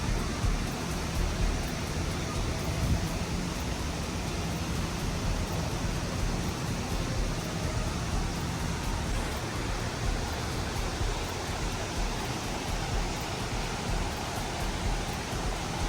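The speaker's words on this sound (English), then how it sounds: "it sounds nice to hear the water rushing again or raging again" Water rushes steadily at Raging Waters water park on Morey's Piers, a broad, constant roar close by without a break, and no voices.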